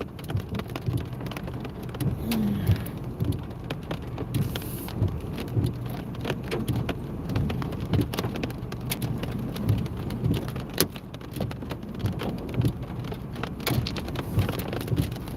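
Rain and hail patter steadily during a West Texas thunderstorm under a redeveloping wall cloud, a dense close drumming with scattered sharper hits and low rumble, no voices.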